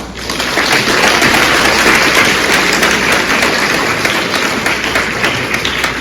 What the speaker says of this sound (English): Once again, a big round of applause for everyone.